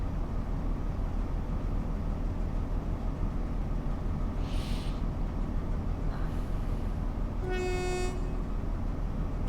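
A train horn sounding in the Train Sim World 2 Great Western Express route, one clear tonal blast about a second long over a loud, constant engine rumble, with a fainter hiss earlier.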